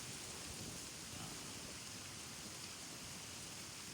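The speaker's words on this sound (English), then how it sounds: "Now we got a storm moving in." Steady rain hisses continuously across the whole stretch, a dense wash of falling water with faint low rumbles of thunder mixed in.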